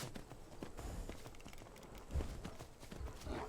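Horse hooves clip-clop in a quick, steady rhythm in the video game Skyrim, fairly faint, with a heavier thud partway through.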